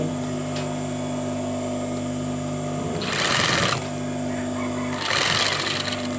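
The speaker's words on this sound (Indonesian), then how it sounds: "terus kita jahit lagi" A sewing machine stitches curtain fabric in two loud, rapid whirring bursts of about a second each, separated by a quieter idle hum, recorded close up.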